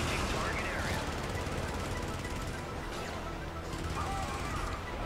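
Rapid machine gun fire in the Helldivers game, a dense continuous rattle of bursts that fills the whole stretch, loud and steady with no pauses.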